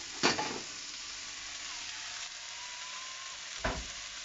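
Steak fries in a pan with a soft, steady sizzle, broken by two brief clatters near the start and the end.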